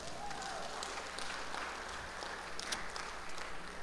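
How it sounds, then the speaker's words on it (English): An audience applauds after a Christmas cantata, a steady wash of clapping heard from some distance, fairly quiet and continuous. "Let's give them a wonderful round of applause."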